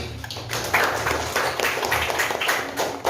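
Clapping from a classroom audience during a teacher's lesson, a steady patter of many hands at moderate loudness that carries through the whole stretch.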